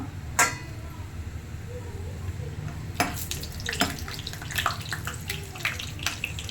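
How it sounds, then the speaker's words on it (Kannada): Cashews go into hot ghee for bisi bele bath and fry with a soft continuous sizzle, punctuated by a few close clinks and scrapes of stirring. "ಈಗ ತುಪ್ಪ ಕಾದಿದೆ ಇದಕ್ಕೆ ಗೋಡಂಬಿ ಹಾಕ್ಕೊಳ್ಳೋಣ"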